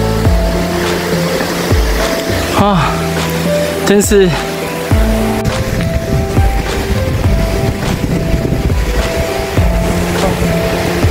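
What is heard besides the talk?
waterfall rushing water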